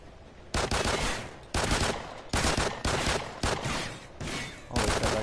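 Video game gunfire rattles out in repeated loud bursts of rapid shots, about six sustained volleys separated by brief pauses, close and harsh with no talk over it.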